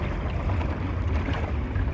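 A small sailboat on Yarra Bay cruising under an electric propeller, with a constant close rush of water against the hull, a low hum and some wind buffeting the microphone.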